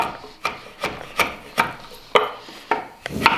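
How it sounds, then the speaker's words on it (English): A sharp chisel cutting into timber for a frame tenon, giving about eight crisp, evenly spaced scraping strokes close up, each a short rasping bite into the wood, with no talk. "if your chisel's nice and sharp, a lot of times you could just"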